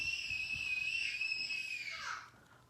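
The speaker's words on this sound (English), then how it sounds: "he's probably screaming because his brother is letting out the water" A child screams indoors in one long, high, sustained shriek that bends downward and fades at the end, heard at a moderate distance.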